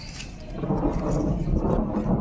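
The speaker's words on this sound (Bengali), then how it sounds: "বাজ পড়ার মতো আওয়াজ হচ্ছে" Low rumbling thunder rolls steadily in the distance, a deep continuous grumble with faint rain-like hiss above it.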